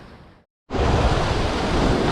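On the open sea aboard a Mini-Transat sailboat, strong wind roars and waves rush against the hull. After a brief gap of silence the loud, continuous broadband roar returns.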